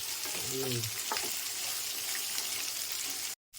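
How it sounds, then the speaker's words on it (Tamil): Onions sautéing in a pan for a spicy onion-tomato chutney give a steady broadband sizzle, with a brief voice-like murmur early on and the sound cutting out abruptly near the end. "வெங்காயம் இந்த மாதிரி வதக்கிடுங்க"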